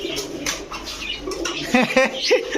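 Grizzle pigeons of the G Tiger grizzle type coo in short bursts at a bird shop, close and fairly loud, with people talking around them.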